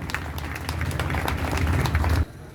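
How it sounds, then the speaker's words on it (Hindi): An audience at a community gathering in Damoh claps loudly in honour of Haji Amjad Khan, a dense continuous burst of applause that stops abruptly just before the end. "मैं चाहूंगा कि समाज की ओर से, दमोह की ओर से, आप सब की ओर से इनके सम्मान में एक बार जोरदार तालियां आनी चाहिए"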